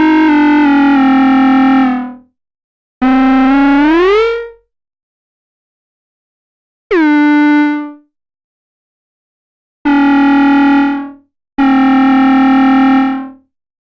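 Korg Volca Modular synthesizer playing a bright, cutting lead patch: five separate sustained harmonic-rich tones, some sliding upward in pitch or starting with a sharp drop, each fading out between gaps of silence.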